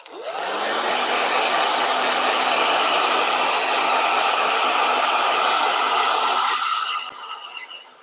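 A blow dryer switches on and runs loudly and steadily for about seven seconds at close range, then winds down and cuts off.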